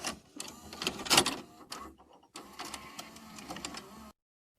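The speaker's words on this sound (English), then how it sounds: "I believe that is a VCR. A VHS tape being popped in or, ejected from." A VHS tape being inserted into or ejected from a VCR, heard as a mechanical whirring and clunking sequence with a brief pause, fairly quiet and alone.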